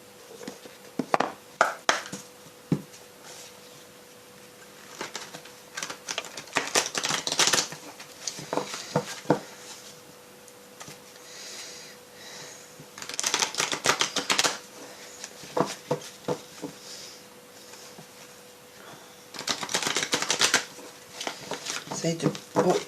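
Oracle cards from an intuitive-soul deck are shuffled by hand in repeated bursts of soft papery riffling and tapping, close and fairly quiet, with pauses between rounds.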